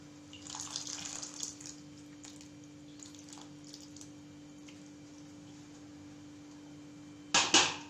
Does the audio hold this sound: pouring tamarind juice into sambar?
yes